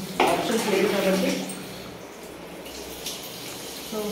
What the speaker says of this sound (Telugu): వాటర్ స్పైన్ మీద వేసిన స్ట్రైట్గా పోసే విధానం అలా పోయాలండి